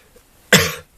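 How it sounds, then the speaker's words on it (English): A single short, close cough rings out once against a quiet room background. "Coughing again"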